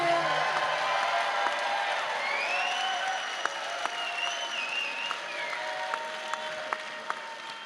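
An audience at a punk concert at the Texas Theatre applauds and cheers for the band, sustained clapping with whoops and some distant talk beneath, occasional sharper claps standing out.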